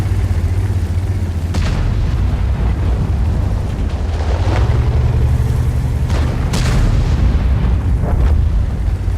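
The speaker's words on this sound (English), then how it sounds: "Enemy armor is hit. Alright, bouncing some shots." Tank cannon shots in World of Tanks boom and thud against armor, with sharp impacts and ricochet bursts standing out over a loud, constant engine rumble.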